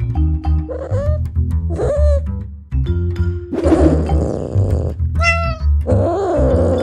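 A cartoon cat meows in several drawn-out, wavering cries, loud and close, over background music and scattered clattering effects.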